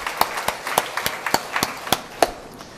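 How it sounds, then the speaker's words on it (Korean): Congregation in a Korean Sunday church service clapping in praise, a series of sharp, fairly regular claps with a few louder accents, heard in a reverberant hall without talk. "주님께 영광으로 박수를 드립니다."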